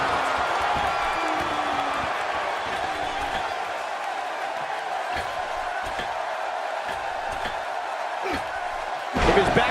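A large wrestling arena crowd in the video game WWE 2K17 roars steadily throughout a Ric Flair vs Sting match, with occasional thuds and slams, and a burst of louder noise at the end; commentators talk over it.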